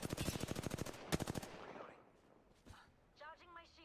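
Video game gunfire in a rapid automatic burst of evenly spaced shots, loud and close, followed by a second short burst, then a voice speaking briefly.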